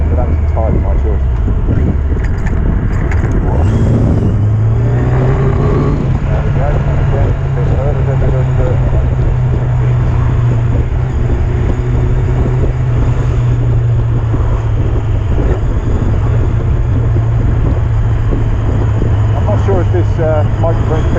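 Yamaha Fazer 600 cafe-style motorcycle engine revving under throttle, a loud steady drone that rises in pitch and holds high, with a person talking over it throughout.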